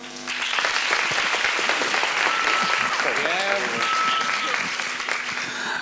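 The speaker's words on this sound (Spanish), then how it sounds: "Aplausos para Alejandro." A crowd claps steadily and loudly for several seconds after a brief quiet start, with scattered voices and whoops rising over the applause.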